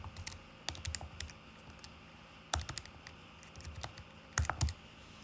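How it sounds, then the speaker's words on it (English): Numbers are tapped into a calculator as short clusters of quick, crisp key clicks separated by quiet pauses, close and faint, no voices. "you just type that right into your calculator"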